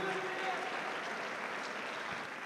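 A crowd at a boxing event applauds the two fighters after the bout, a steady, fairly distant patter of clapping with voices mixed in.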